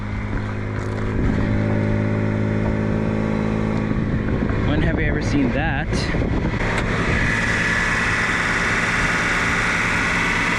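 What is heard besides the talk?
Nissan Atlas truck engine idling and exhaust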